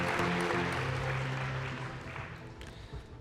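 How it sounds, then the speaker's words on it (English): A burst of clapping from a crowd at an awards gala, loudest at first and then thinning out over a few seconds. "Round of applause, please."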